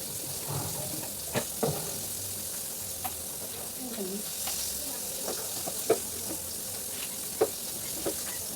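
Food fries in a pan at a provincial celebration meal in the Philippines, a steady hiss of sizzling oil broken by occasional clinks and scrapes of stirring.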